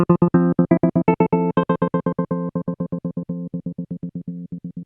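BOSS SL-2 Slicer pedal effect sound only, a guitar chord chopped into a fast, steady stream of rhythmic pulses that change pitch pattern as they go, loud and alone.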